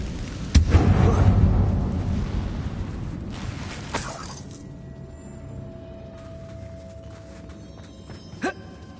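A Confringo spell blasts inside an abandoned, closed-off mine in Hogwarts Legacy: a sharp loud burst followed by a long rumbling roar that fades over several seconds, with a second crack shortly before a tonal hum settles in and a final small pop near the end.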